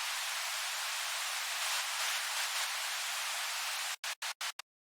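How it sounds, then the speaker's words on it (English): Steady, loud hiss of white noise layered into a future bass music mix fills the upper range, then cuts into four short rhythmic bursts before stopping. "add some white noise to fill out the upper bit of the mix"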